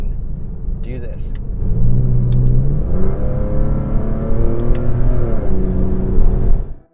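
A Porsche 911 fitted with a Pfister sports exhaust accelerates hard, its engine rising through revs in a loud, close, rasping roar that builds and then cuts off abruptly, with no talk over it.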